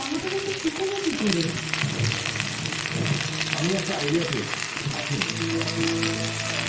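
Egg with salt and turmeric fries in a pan with a busy, crackling sizzle throughout, under someone speaking in Bengali over it.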